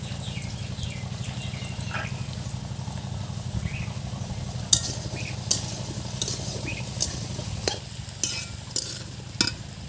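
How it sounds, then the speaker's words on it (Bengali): Potato and papaya pieces fry in a pan with a steady sizzle while a utensil stirs them, scraping and clinking against the metal at regular intervals. "বন্ধুরা আলু আর পেঁপেগুলো আমাদের ভাজা হয়ে গেছে"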